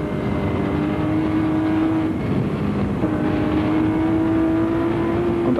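Onboard engine roar of a Martini Porsche 936 race car at Le Mans in 1977, loud and continuous with a droning tone that dips briefly as the revs change, then climbs again.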